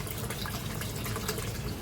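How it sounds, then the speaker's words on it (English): Water is pulled through an aquaponics bell siphon draining a rooftop terrace grow bed with fish tanks below, giving a continuous gurgling, trickling rush at moderate level with no speech. "the siphon which pulls the water when the water reaches a certain level in the grow bed"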